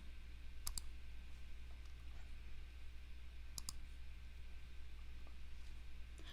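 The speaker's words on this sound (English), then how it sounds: "I'm going to go down and click Asian Indian" Two faint, widely spaced computer mouse clicks while an online census form is filled out, a pair of quick clicks early and another pair a few seconds later, over a quiet steady hum.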